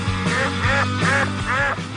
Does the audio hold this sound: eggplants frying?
no